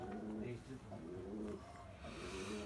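Tumbler pigeons cooing in a handmade loft, with repeated low, throaty coos close by that overlap in soft rounds, and someone talking quietly in the background.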